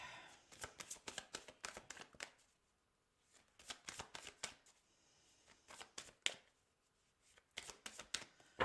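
Tarot cards shuffled in quick riffling bursts, each lasting a second or two and separated by short pauses, close and fairly quiet with no talking.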